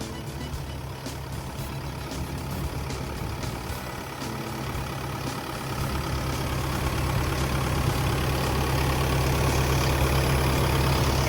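The heavy diesel engine of a Sumitomo HA60W-7 6-meter asphalt paver idles with a steady low rumble that grows louder and fuller partway through, running alone without voices.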